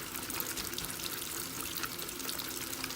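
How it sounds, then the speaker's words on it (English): Running water from a tap splashes onto a makeup brush being swirled to clean it, a continuous close trickling and splashing hiss at steady volume throughout, with no talking. "put a little bit of water on there, and then I'm just going to swirl it around"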